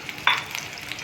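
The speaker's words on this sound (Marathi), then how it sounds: "तेल गरम झालं, त्याच्यामध्ये कांदे टाकले," Onions and garlic hit hot oil in a pan, giving a brief, sharp sizzle burst that settles into a steady, moderate frying hiss, with no one talking.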